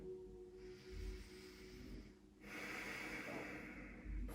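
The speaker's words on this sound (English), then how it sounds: "taking some nice, slow, deep breaths" Slow, deep breathing during a gentle yoga session, with a long soft inhale followed by a hissing exhale, close and quiet, no talk.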